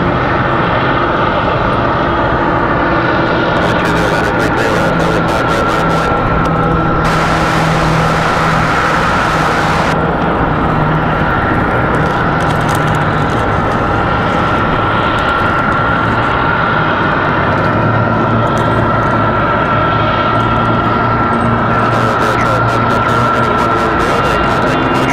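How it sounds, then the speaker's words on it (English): An American Airlines A321 jet departs Raleigh-Durham International Airport, producing a steady, loud engine rumble with a persistent whine throughout, with brief bursts of hiss from nearby. "We've got American A321 back to Charlotte."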